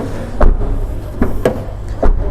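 The rear door of a Citroen C-Elysee sedan is shut in a showroom, giving several dull, solid thuds spaced a second or so apart at close range.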